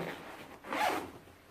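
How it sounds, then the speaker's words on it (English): A red zipper on a bulletproof backpack is pulled in one smooth, close zip of about a second, set against faint background noise. "got this red zipper tie, and you just run it all the way around"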